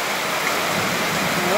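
Steady rain falling on a ranch and soaking the plants, a continuous broadband hiss of water at a constant loud level with no breaks.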